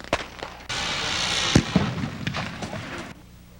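Fireworks and firecrackers exploding at the 1988 PGI fireworks convention: a sharp pop, then a dense, crackling roar with several louder bangs rising out of it before it cuts off.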